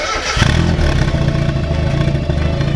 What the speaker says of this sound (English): Straight piping the Miata today. It's a big day. Yeah. Give it a start.